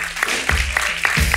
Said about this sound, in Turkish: Alkışlıyoruz Renan Hanım'a.